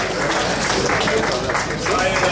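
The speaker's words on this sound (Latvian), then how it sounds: "Sagaidām ar aplausiem!" Crowd applause welcoming Uldis Sesks, chairman of the Liepāja city council, at the premiere of the hockey club Liepāja anthem, a steady dense wash of clapping with voices mixed in throughout.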